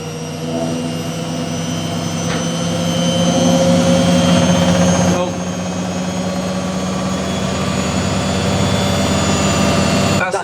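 A Samsung EcoBubble washing machine spins at high speed around 1,100 rpm, giving a loud, steady whining roar with a constant drone and a brief dip midway, close up with no voices.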